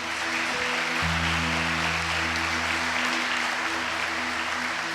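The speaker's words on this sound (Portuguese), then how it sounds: "Você pode dar uma salva de palmas para o Senhor?" A church congregation claps together in a sustained, loud burst of applause during a worship service, with a steady organ or keyboard drone underneath.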